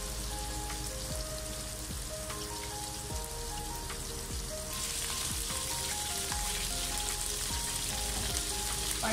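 Raw beef keema kebabs fry undisturbed on one side in a pan, a steady close sizzle and crackle like rain that grows slightly louder halfway through, with faint knocks and no talking.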